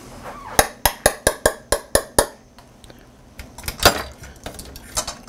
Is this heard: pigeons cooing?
no